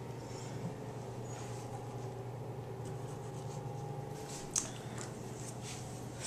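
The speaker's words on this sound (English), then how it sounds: "So I'm going to cut a strawberry into a flower." A knife carves a strawberry into a flower shape, giving faint, soft cutting and squishing sounds over a steady low hum, with one brief sharper snip near the end and no talk.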